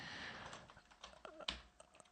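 Quiet, close keystrokes on a computer keyboard tap out in an irregular run of light clicks, with no voices present.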